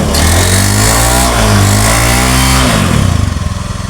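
A Honda BeAT ESP motor scooter engine runs steadily close by, a low buzzing drone that dips briefly near the end, then settles into a pulsing idle.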